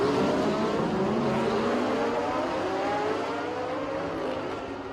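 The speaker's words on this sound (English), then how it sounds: "Just listening to those engines is bliss." Race car engines, including a Lamborghini, howling at the Bangsaen Grand Prix street circuit, a sustained loud whine with rising pitch sweeps as cars accelerate past, alone without talk.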